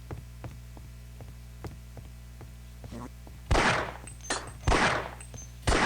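Gunfire in Half-Life: Opposing Force, a few sharp shots in the second half over a steady game hum with faint rhythmic thuds earlier, loud and close.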